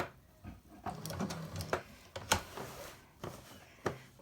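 Domestic sewing machine stitching a bondaweb-backed appliqué in short bursts, with a handful of clicks and brief runs of needle motor sounding close and fairly quiet, with no talking.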